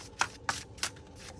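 Spirit of the Animal oracle cards being shuffled by hand, three quick riffling bursts at a steady rhythm, close and clear with no talking.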